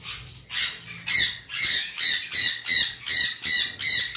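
Pet parrots squawk in a bird shop, a steady run of about eight loud, harsh calls at a quick, even rhythm, close by and with no talk.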